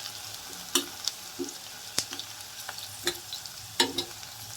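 Vegetables for hotel-style saagu frying in a pressure cooker, with a quiet steady sizzle under sharp intermittent clinks and scrapes of stirring against the pot, no voices.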